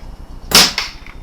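A single sharp air rifle shot firing a Rifle Series 10.03 grain slug, a loud close crack with a brief ringing tail, heard alone.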